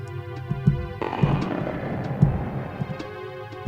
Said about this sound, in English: Stomach gurgling.